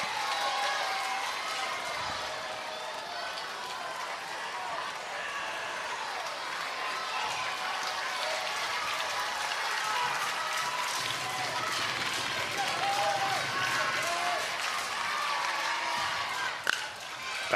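A sold-out stadium crowd at a Little League World Series baseball game cheers and claps steadily, a dense wash of applause and voices heard from within the stands, with a commentator talking over it.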